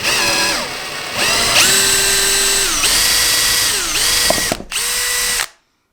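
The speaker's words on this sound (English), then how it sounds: "I drill a middle hole." A power drill with a 1/8 inch bit whines loudly at close range, its pitch rising and dropping as it bites into wood, pausing briefly before stopping abruptly.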